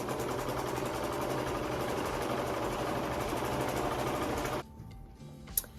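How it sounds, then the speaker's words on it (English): A serger runs steadily at close range, stitching down the open side of folded fabric with a continuous mechanical whir for several seconds before stopping, followed by quieter handling noises and a brief click. "I've serged down this side, the open side"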